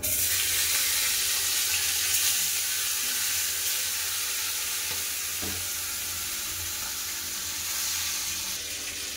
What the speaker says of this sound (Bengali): এরকম করে সব মাছগুলো ভেজে নেবো